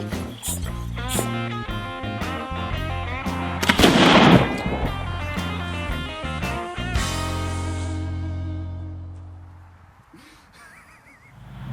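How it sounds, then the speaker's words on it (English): Mega Boom explosive archery target blasting apart a plastic bottle with a loud, sharp boom near the middle, set within ongoing music and followed by a fading rumble. "You're hearing that really loud sonic boom, and it's the bottle ripping"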